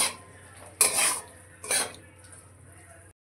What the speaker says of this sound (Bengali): এবার আলু দিয়ে একটু কষিয়ে নেব।